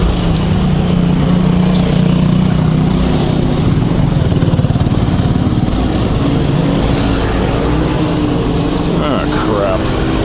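A motorcycle engine runs unevenly after stalling with the choke taken off, a steady close mechanical chug with a rough, sputtering edge throughout, while a person talks over it.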